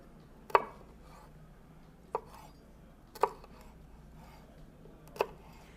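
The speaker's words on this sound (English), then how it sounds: "So you're just going to cut some small slices here." A knife cuts jalapeno into small slices on a cutting board, giving four separate crisp chops with long pauses between them in a quiet kitchen.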